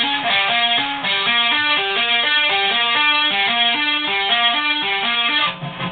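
A fast repeating run of distorted electric guitar notes, finger-tapped with hammer-ons and pull-offs in a steady looping pattern, bright and sustained with no voices.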